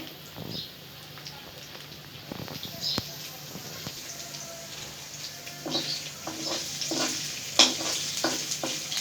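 Onions and dried chilies fry in a pan as a potato chop filling, with a gentle steady sizzle broken by repeated stirring scrapes and clinks close by.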